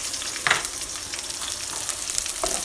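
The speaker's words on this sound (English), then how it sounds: "So let it fry on the pan." Dry herbs and onions fry in a hot pan with a steady, soft sizzle and a couple of brief stirring scrapes, nearby and unbroken by voices.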